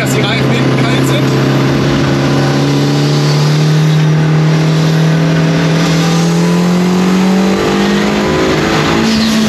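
Abarth car accelerating hard on the Bilster Berg race track, a loud steady engine drone with rising revs that holds throughout, rear wheels under traction control.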